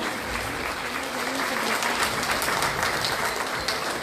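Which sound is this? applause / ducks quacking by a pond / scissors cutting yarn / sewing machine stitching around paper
applause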